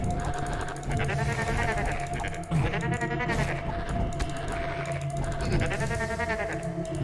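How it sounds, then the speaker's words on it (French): Goat beastmen bleating in the dungeon crawler Book of Demons, several wavering goat-like cries over game music and rattling effects, fairly loud and repeated through the clip. "C'est des chèvres."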